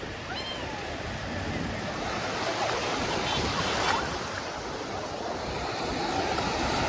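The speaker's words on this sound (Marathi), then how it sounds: "लाटा जाम मोठा येतात" Big ocean waves surging onto the beach at Alibag, a loud continuous roar of surf with wind buffeting the microphone, swelling slightly midway and staying steady.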